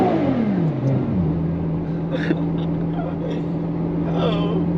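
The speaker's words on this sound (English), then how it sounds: "You got that Ferrari V12." Ferrari F12 TDF V12 engine heard from inside the car on a road drive: a loud, close drone that drops in pitch through a shift, then holds a steady tone with small rises.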